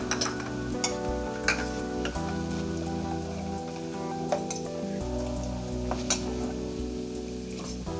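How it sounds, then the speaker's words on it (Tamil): A pot of betel leaf payasam simmers with soft bubbling and occasional small pops, steady throughout, with gentle music playing underneath. "ஒரு அஞ்சு நிமிஷம் கொதிக்கட்டும்"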